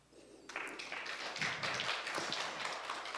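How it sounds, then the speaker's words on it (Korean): Organisers clap at a video media culture forum in Gimpo. After a brief quiet start, steady close-up clapping from a small group builds in and carries on to the end. "이 박수 소리는 우리 함께 하고 계신 관계자분들의 박수 소리니까요"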